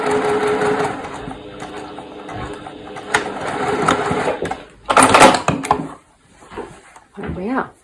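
A sewing machine stitching strips of a wonky log cabin quilt block, rapid mechanical whirring in bursts that stop and start, with someone talking over and between the runs.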